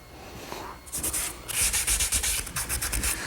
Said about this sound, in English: I'm doing just a bit of touch-up sanding before I start working on the top